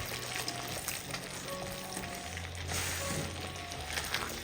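Okra and scrambled egg fry and are stirred together in a pan, a steady soft sizzle with light scraping from stirring, close and fairly quiet, no talking.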